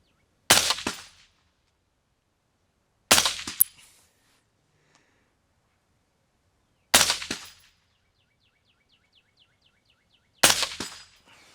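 A PRI MK12 Mod 0 rifle fires four sharp, loud shots at a long-range target 1,000 yards out, spaced a few seconds apart, each crack decaying quickly into silence.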